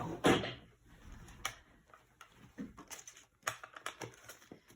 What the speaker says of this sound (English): Oops, wrong drawer.